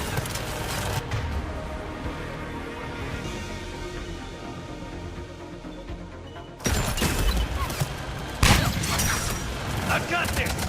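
Gunfire in the video game Mass Effect 3, in a fight during the fall of Thessia: a dense, continuous battle din of sustained shooting and crashes, surging louder midway, with voices in the mix.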